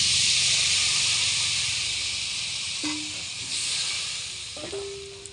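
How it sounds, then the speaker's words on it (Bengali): Water poured into a hot pan of turmeric-spiced mixture for a thin hilsa fish curry sets off a strong, close steamy hiss that slowly fades, with a few faint tonal clinks. "এবার এখানে দিয়ে দেবো পরিমাণ মতন জল"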